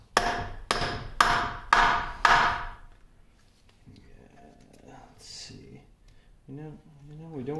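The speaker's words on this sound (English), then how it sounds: "Just grab a nice round punch here, get it into the, get it right into where they had the hole drilled" Five loud, evenly spaced hammer blows drive a round punch into the centre hole of a quick-change gearbox part from a 1950 LeBlond Regal 17-inch lathe, followed by quiet shop clatter and brief talk.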